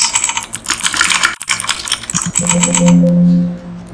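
Fingers type on a computer keyboard, fast, close clattering keystrokes for a couple of seconds, then a short pause and a low sustained hum as the typing fades out.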